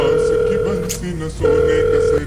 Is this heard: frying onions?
no